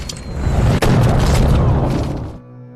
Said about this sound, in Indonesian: ketika pintu dibuka oleh anak buah Cyrus, peluru dari senjata shotgun langsung menyambutnya.